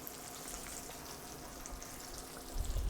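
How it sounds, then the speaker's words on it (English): Chicken fries in a hot cast iron pan, giving a steady, dense sizzle and crackle that stays close and even throughout, with a low bump near the end. "So when you're frying in cast irons"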